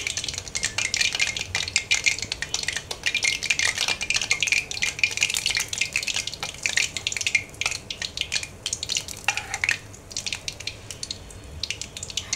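Two pillow sweets (balish mishti), a traditional Netrokona dessert, fry in a pan, with a dense, continuous crackling sizzle broken by occasional stirring and scraping sounds.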